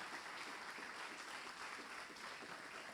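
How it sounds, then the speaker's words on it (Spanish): A church congregation at a Sunday service applauding: continuous, even clapping from many hands that holds steady for a few seconds, fairly quiet. "Dale un aplauso al Señor."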